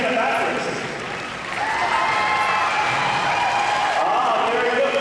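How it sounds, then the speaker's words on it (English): Audience applause at a national Australian Stock Horse exhibition, a broad sustained patter of many hands that dips briefly then swells again, with voices over the arena. "Clap me as well, I can canter sideways."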